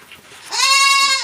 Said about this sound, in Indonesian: Ini kambing Anggora.